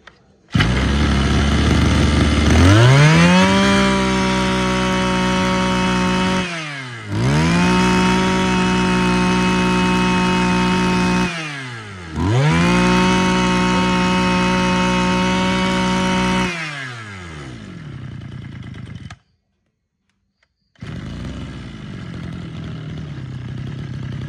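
A used Japanese brush cutter's two-stroke engine, left original apart from a replaced fuel tank, is started and revved three times in a row. Each run climbs to a loud, steady high whine and then winds down, and a short gap of silence comes before a quieter idle.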